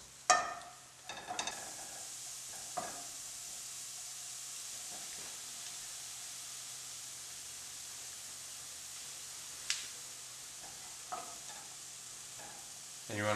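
Garlic and mushrooms fry in a pan over medium-high heat, giving a soft continuous sizzle and hiss, broken by a few sharp scrapes and clatters from stirring, with no speech.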